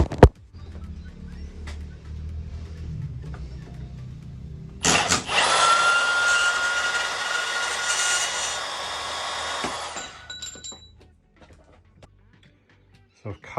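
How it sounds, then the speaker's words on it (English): A power tool cuts a metal bar for a modified Milwaukee Packout wheel cart, with a loud, steady, high-pitched grinding whine lasting about five seconds. Quieter handling noises come before and after it. "So here I'm just eyeing off the length of the bar itself, and then I'm going to cut it."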